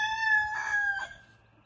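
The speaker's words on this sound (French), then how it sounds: "Le coq, il arrête pas de chanter" A rooster crows once, close and loud, near a camper van at a campsite in Italy, a single drawn-out call that fades into quiet.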